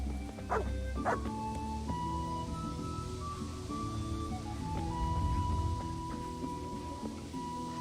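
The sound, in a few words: dog barking and whimpering in video game Kingdom Come: Deliverance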